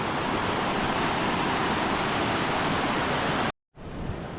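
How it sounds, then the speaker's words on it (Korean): Waterfall at Ubud, Bali pours down in a loud, steady broadband rush that fills the scene, cutting out abruptly near the end before resuming more faintly. "아, 물 시원하게 내리네요."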